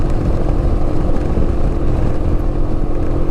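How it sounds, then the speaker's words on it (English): A motorcycle being ridden on a road, its steady engine drone and wind rush continuous and close throughout, with no voices. "Now this bike doesn't accelerate very quickly,"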